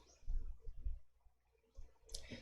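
A few soft mouse clicks while selecting the Advanced Filter option in Excel's Data tab, short quiet taps near the start and a brighter click toward the end, with no talking.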